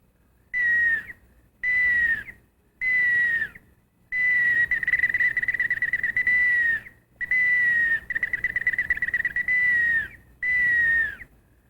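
A straight whistle duck call blown in seven clear, steady whistle blasts, some short and some drawn out, close and alone with short silent gaps between them.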